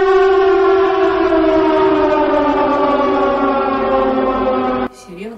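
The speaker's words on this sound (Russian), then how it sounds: "Сирена какая-то." A loud, sustained civil defense siren wails on a steady, slowly falling tone for several seconds before cutting off abruptly.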